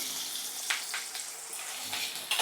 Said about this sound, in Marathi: तेल तापलंय बघा. यात टाकूया बारीक चिरलेला कांदा.